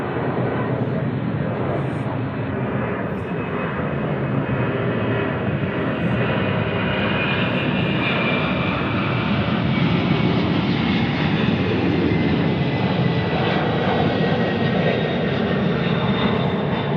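A heavy jet airliner taking off at Memphis International Airport, a FedEx cargo hub, produces a continuous broad, rumbling roar that holds steady and loud throughout, with the engine noise filling the whole stretch.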